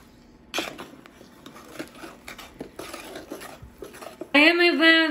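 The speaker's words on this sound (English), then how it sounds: "syrup, and I'm gonna mix." Banana bread batter of milk, egg, maple syrup, spices and baking powder being stirred in a single bowl, giving a busy scraping and clinking of utensil against bowl, followed by a voice at the end.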